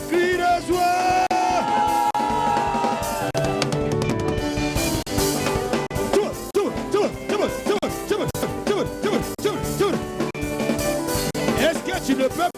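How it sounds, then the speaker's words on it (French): A church congregation at a telethon worship event shouts and whoops loudly in joy, with sustained yelling and cheering over music. "Pousse les cris de joie."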